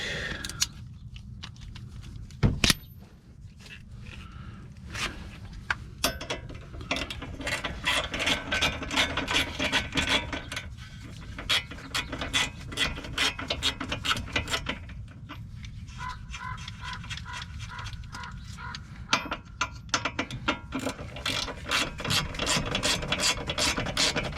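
A ratchet wrench tightens a bolt on the front axle of a Toyota Corolla or Camry (1995–2020), giving repeated bursts of rapid clicking strokes with brief pauses between them, heard up close.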